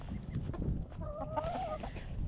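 Backyard chickens cluck and murmur nearby in the morning, soft overlapping calls with a brief higher rising cluck in the middle, over low rustling background noise.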